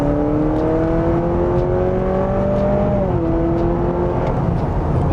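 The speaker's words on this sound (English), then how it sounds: "let's put this thing into sport mode and give it some gas." A 2023 Honda CR-V Hybrid AWD Sport Touring accelerates in sport mode, its engine note climbing steadily and then shifting to a lower pitch, heard loud and close from inside over road rumble.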